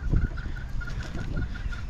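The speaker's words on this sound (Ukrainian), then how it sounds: "І півник от кудахкає збоку." A rooster on Oahu, Hawaii, clucks softly nearby in a short run of low, quiet clucks set against outdoor ambient noise.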